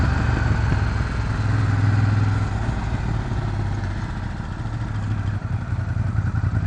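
Aprilia and BMW motorcycle engines run steadily nearby, a loud continuous mid-pitched drone with a rough clattering texture and no pause throughout.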